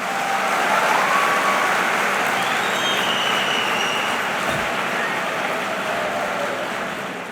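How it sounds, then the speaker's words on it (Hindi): An audience applauds loudly at a Teachers' Day talk, a dense sustained clatter of clapping that swells early and slowly fades toward the end. "देखो ताली बजाई है तुमने"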